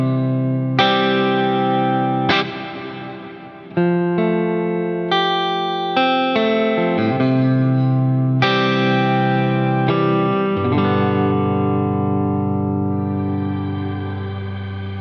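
Electric guitar played through a pedalboard reverb pedal set to plate mode: loud strummed chords struck in succession, each ringing out in long, washy decaying tails, with no talking.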